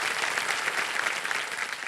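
A television quiz-show studio audience claps to welcome a guest couple, producing continuous, even applause with no talking over it.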